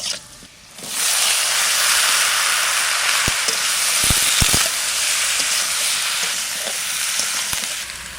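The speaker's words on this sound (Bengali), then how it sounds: "এবার চিচিঙ্গা কটা দিয়ে দেবো।" Chopped snake gourd lands in a pan of boiled potatoes and turmeric, setting off a loud, sustained close sizzle with steam hiss and a few sharp knocks of stirring.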